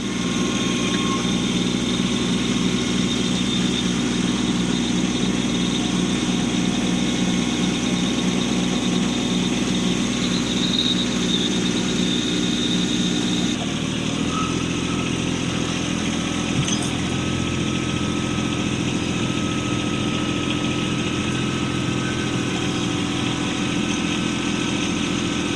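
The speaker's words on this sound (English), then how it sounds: "Now I got the four-wheeler out." ATV four-wheeler idling nearby on a snowy pond rink, a loud, continuous engine drone with a steady rumble that shifts in pitch partway through, no voices.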